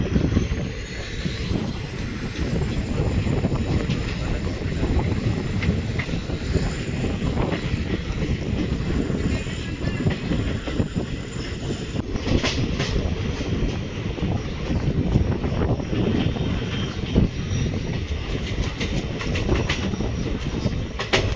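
A moving passenger train bound for Ahmedabad rumbles steadily from inside, with dense rattling, wheel clatter and wind buffeting that stay loud and continuous, plus a few sharper clanks partway through.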